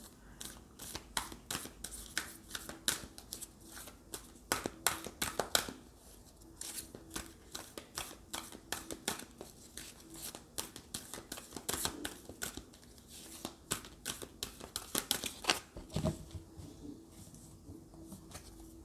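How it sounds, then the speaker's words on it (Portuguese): A large double deck of oracle cards being shuffled by hand, giving repeated soft riffling and slapping bursts in an irregular rhythm, fairly close and moderately quiet, with no talking. "vamos botar as cartas aqui no meu deck misturado"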